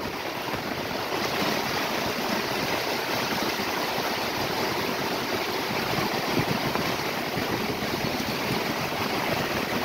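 Strong wind and heavy rain in a storm, a dense steady roar of rushing air and downpour filling the whole stretch without break, no voices.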